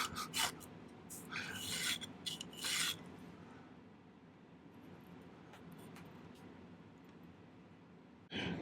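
A hand file rasps against a metal seashell setting in a few short, quiet strokes near the start, then fades to faint background hiss, with one more brief scrape at the end.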